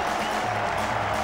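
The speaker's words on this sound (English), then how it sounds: "Farmer's back to the applause of the Fremantle crowd" A Fremantle football crowd at a match against Melbourne applauds in a steady, distant wash of clapping and crowd noise, brief and uniform throughout.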